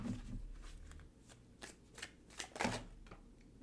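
Tarot cards being shuffled by hand, a close run of soft papery riffles and slaps in uneven bursts, fairly quiet with no talking.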